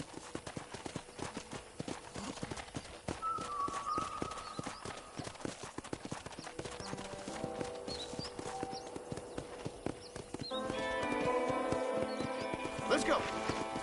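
Horse hooves clip-clopping in the video game Red Dead Redemption, a steady rhythmic trot of fairly quiet hoofbeats with a character speaking over them and music swelling near the end.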